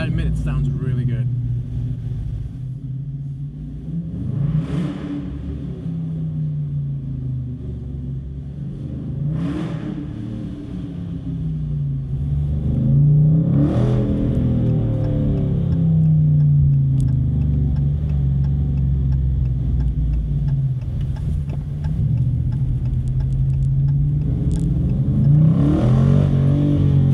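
A 2019 Dodge Challenger with a HEMI V8 heard from the cabin while driving, a deep engine drone that rises in several surges as it accelerates, with brief sharp transients between pulls.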